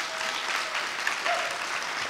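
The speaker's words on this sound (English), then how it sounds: "give a round of applause for them" An audience applauds for volunteer organizers at the Skepticon 7 event, a steady, dense clapping that carries through the whole span with no voices on top.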